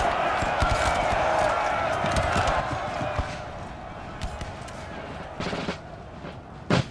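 Musket volleys and cannon fire from a Napoleon Total War recreation of the 1815 Battle of New Orleans between British and American lines: scattered sharp shots and rolling volleys, loud at first, then thinner and more distant, with a final crack.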